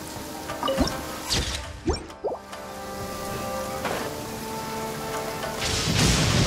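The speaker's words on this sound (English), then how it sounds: "Thunder speaks the will of the almighty Shogun." Thunder cracks and rumbles several times over steady rain in a stormy scene from Genshin Impact, loud and close at first, then settling into a continuous wash of rain with a faint musical drone behind it.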